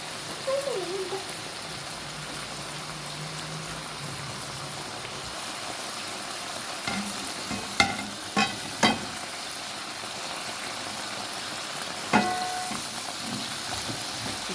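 Beef for piccata sizzles and crackles steadily in a frying pan, a soft close hiss with a few sharp clinks of utensils against the pan.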